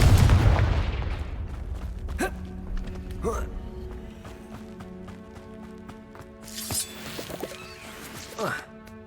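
Confringo blasting spell cast in Hogwarts Legacy, a loud booming burst that decays into rumbling, followed by sharper magical impacts and footsteps over game music, with brief voices.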